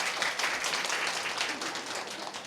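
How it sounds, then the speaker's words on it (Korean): A church congregation applauds the choir, a dense, even patter of many hands clapping together for a couple of seconds. "박수 한번 해주시죠."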